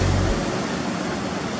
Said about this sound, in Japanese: 波はありますが、ややダンパー気味っていうか面はほとんどないですね。